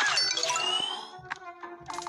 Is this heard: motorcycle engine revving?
no